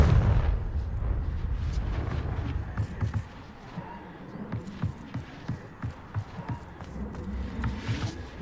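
In the Hogwarts Legacy video game, a Confringo blasting spell explodes with a heavy booming burst at the start, followed by a rumbling tail and a series of thudding impacts.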